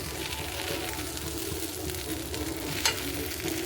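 A dosa fries on a hot pan after the pan was rubbed with onion, making a continuous close, even sizzle with light crackle and no talking over it.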